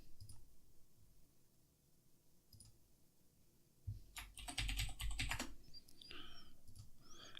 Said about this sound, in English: It's going to force me to type delete.